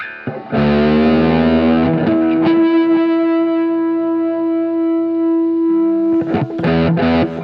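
A sustained, distorted electric guitar note with a chorus-like fusion-effect shimmer holds steady for several seconds during a solo, bracketed by quick picked phrases at the start and end.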